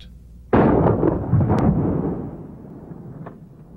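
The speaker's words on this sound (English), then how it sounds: "Shooting the dustbuster into ballistic gel has an equally devastating effect." A shotgun fires a dustbuster specialty round into ballistic gel: one loud, sharp blast that rumbles and slowly fades, with a few faint knocks afterward.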